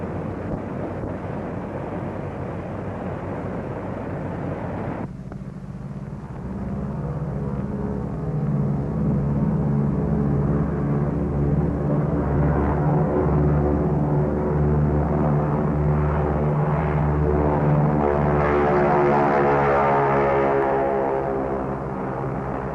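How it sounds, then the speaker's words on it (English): Navy F6F propeller planes are launched by catapult from the flight deck of the aircraft carrier USS Shangri-La at sea, giving a steady, loud engine drone with a low rumble and wind rush that swells after a few seconds and holds. "Navy F-6F mother control planes are catapulted from the carrier's flight deck"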